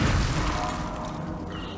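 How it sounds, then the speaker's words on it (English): A deep, booming explosion rolls through the VR zombie shooter Arizona Sunshine 2, loud and heavy at first, then fading into a rumbling tail over about two seconds. "the explosions do sound better this time around"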